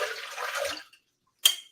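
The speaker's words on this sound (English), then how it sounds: "let me put some water in" Almost three cups of water pour into a blender with apples for homemade apple cider vinegar, a short splashing rush that stops, then one brief clink after a pause.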